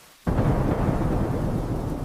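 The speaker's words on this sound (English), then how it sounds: "It is raining outside." Steady rain outside at night, heard indoors from a dark room at home: a dense, continuous roar of falling water that starts abruptly after a brief quiet moment and holds loud and even throughout, with no voices.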